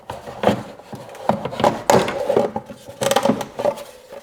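Flat blade screwdriver pries and scrapes at a plastic piece on a Chrysler Pentastar 3.6L V6 engine, making close, irregular creaks, scrapes and clicks in short bursts throughout.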